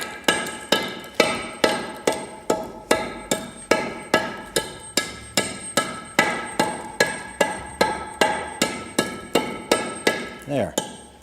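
A very soft concrete block is chipped down about half an inch to seat steel bars, with roughly two dozen sharp, evenly spaced striking blows ringing close by in a steady rhythm.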